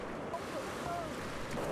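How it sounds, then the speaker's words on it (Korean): Rough ocean waves surge and crash over a small fishing boat at sea off Madagascar, a continuous broadband wash of water and wind noise with no clear separate impacts. "순식간에 파도는 작은 배를 덮쳤는데요"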